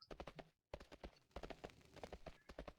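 Horse hooves clip-clop at a steady, even trot in World of Warcraft's Worgen starting area, a continuous run of close, crisp hoofbeats with no voices over them.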